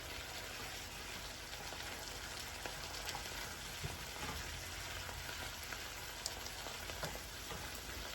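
Slider beef patties with onions fry in a pan, a dense, even sizzle that holds steady throughout with small scattered crackles and no talk.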